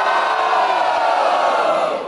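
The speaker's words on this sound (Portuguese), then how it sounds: "Barulho pra quem gostou das rimas de Moita Treta!" A crowd at a Brazilian rap battle cheers and shouts loudly during a vote, a dense continuous roar of many voices yelling together.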